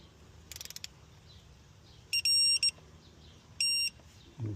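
Torque wrench tightening water pump bolts on a 2004 Chevy Tahoe, giving a few faint ratchet clicks followed by two sharp, high electronic beeps, close by with no talk.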